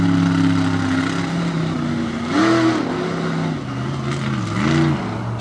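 A monster truck engine roars loud and close as it runs an outdoor course at an All Star Monster Trucks event in Jennerstown, Pennsylvania, its pitch climbing and dropping in repeated revving surges.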